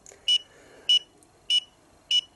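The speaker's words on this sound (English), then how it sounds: "And it beeps like that." A FUYI FY876 EMF meter alarm gives four short, evenly spaced high electronic beeps, clear and close over a quiet background.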